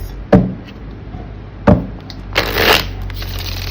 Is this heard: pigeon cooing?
no